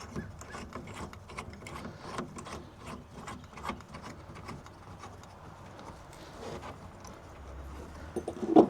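A ratchet wrench tightens the mounting hardware of a MilesRunner inflatable camper top on a Chevy Colorado truck bed. Rapid, close clicking runs continuously at moderate volume and ends in a louder final knock, with no voices.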